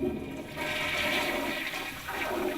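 A toilet flushes nearby, a rushing swirl of water that holds steady for a couple of seconds, with no talk over it.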